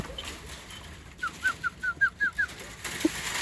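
A bird gives a quick run of seven soft, evenly spaced cooing notes over quiet background hiss.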